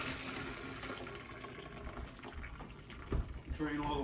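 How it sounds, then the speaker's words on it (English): Water from boiled sweet potatoes pouring through a kitchen strainer, a soft continuous rushing splash with a brief clatter near the end. "Drain all the water out."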